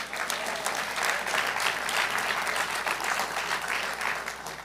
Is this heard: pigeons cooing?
no